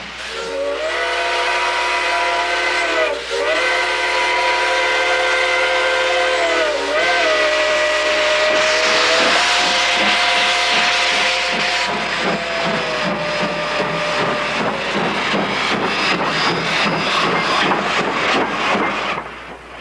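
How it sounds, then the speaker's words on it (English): A steam locomotive whistles loudly and at length in several sustained blasts, with steam hiss and the rhythmic chuffing of the running engine building up underneath, with no voices present. "Then he pulls the throttle and the steam makes the wheels go"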